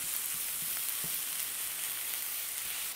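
Minced meat for chilli con carne fries in a pan with a dense, steady hiss and sizzle, a few soft stirring taps underneath.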